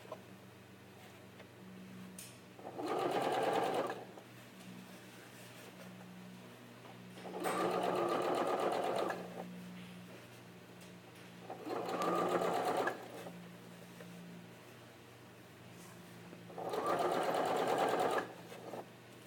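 A sewing machine understitching a garment collar runs in four short bursts of steady whirring, separated by quiet pauses, with no talk.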